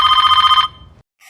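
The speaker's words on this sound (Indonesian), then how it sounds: "dikejutkan dengan suara panggilan telepon dari seorang polisi" A telephone in a film rings with a loud, rapid trilling bell burst lasting about half a second, then falls silent before a faint start of another ring; no voices.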